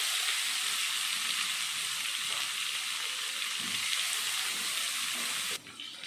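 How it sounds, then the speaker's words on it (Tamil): Chopped big onions hit hot oil with browned chana dal and urad dal, giving a steady, even sizzle that stays loud and close throughout with no talk. "கடலைப்பருப்பு உளுத்தம்பருப்பு செவந்ததும் சின்ன சின்னதாக கட் பண்ணி வச்சுருக்கிற பெரிய வெங்காயம் 2 சேர்த்தலாம்."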